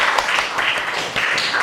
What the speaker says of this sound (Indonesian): tepuk tangan ya buat Herdila